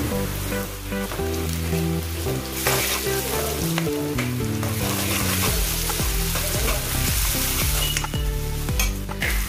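Loud, dense sizzle of ginger-garlic paste frying in a pan fills the clip while background music plays throughout, with occasional scraping of a spoon in the pan.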